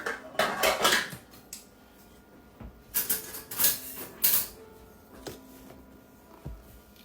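A measuring cup scoops all-purpose flour from a bag and a utensil rakes across the rim to level it, giving a few close scraping and clattering bursts separated by short pauses.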